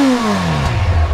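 A Yamaha Fazer 8 motorcycle engine revs up close, a loud blip whose pitch sweeps downward as the throttle is released, then settles into a rough, lower rumble.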